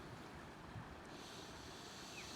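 The Rogue River flows past its banks as a faint, steady broadband wash of moving water, continuous and even throughout with no voices.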